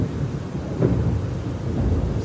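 Thunder rumbles low and heavy through a spring rainstorm at dawn in São Paulo, with steady rain hissing underneath and a slightly stronger roll near the middle, no voices present.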